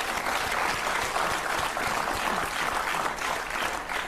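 A studio audience on the Countdown game show in 2001 breaks into steady, dense applause that holds evenly for several seconds, filling the room without any speech.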